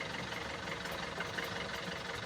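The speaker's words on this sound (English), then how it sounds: "We're doing the final check of the engine." Boat engine running steadily during a final check after repair work, a continuous dense mechanical drone with a rough, even texture and no pauses, fairly close and moderately quiet.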